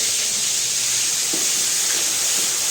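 Ginger-chili paste drops into hot oil in a pan for green pav bhaji: a steady, loud, bright hiss and sizzle that runs unbroken throughout, with faint soft pops underneath.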